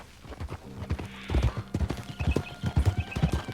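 Rapid clip-clop of a small horse's hooves on a hard surface in Red Dead Redemption 2, steady trotting rhythm up close, with a brief whinny partway through.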